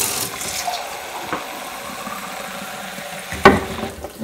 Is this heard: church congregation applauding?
no